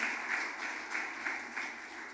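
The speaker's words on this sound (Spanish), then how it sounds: "le pueden dar un aplauso a Jesús" A church congregation applauds during a service, a steady wash of many hands clapping at a distance, fairly soft and continuous.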